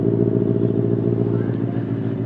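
A Benelli 302 motorcycle fitted with an IXIL exhaust idling at about 1500 to 2000 rpm, giving a loud, close, steady throbbing rumble that holds even throughout.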